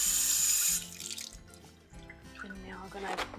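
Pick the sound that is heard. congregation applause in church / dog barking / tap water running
tap water running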